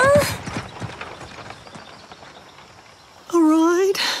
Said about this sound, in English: And this noble steed is Señor Carrots, my business partner.